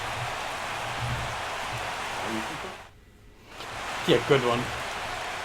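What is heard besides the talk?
rain in MLB The Show 16 baseball video game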